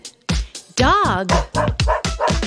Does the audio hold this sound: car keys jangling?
no